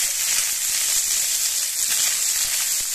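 Food stirred in a frying pan, a steady close sizzle with soft scraping stir strokes throughout and no talk.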